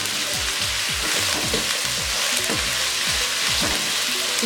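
Mixed vegetables and peas for fried rice fry uncovered in a pan, producing a loud, dense, continuous crackle and sizzle with stirring underneath.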